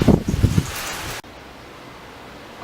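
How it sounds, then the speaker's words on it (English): Wind gusts outdoors buffet the microphone in a welding workshop setting, a loud rumbling whoosh that cuts off abruptly, followed by a low steady rush of air. "here comes the wind."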